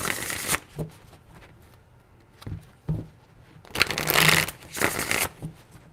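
Tarot cards being shuffled in three riffling bursts, the last two longer and louder, separated by quiet pauses.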